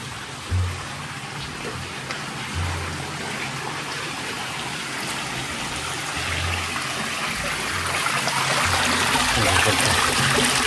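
Cold mountain water flows and trickles steadily in the Spanish Pyrenees, a constant rushing wash that grows slightly louder toward the end, with no voices.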